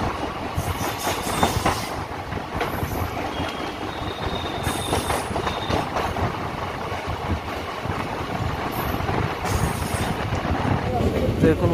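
Intercity Express 13332 from Patna to Dhanbad runs along the rails with a continuous heavy rumble, rhythmic clickety-clack and repeated high wheel squeals, loud and close from inside a carriage, with voices faintly in the background.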